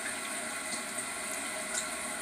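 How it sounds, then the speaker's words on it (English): Water rushes steadily into the cistern of an old Crane toilet, a continuous close hiss of refilling with no talk over it. "It takes a little while to fill up"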